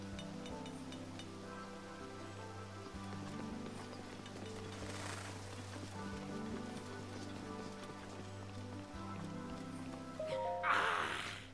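Steady rain falls in The Legend of Zelda: Breath of the Wild, a dense, even hiss that stays level across the whole stretch, with game music underneath and a brief chime near the end.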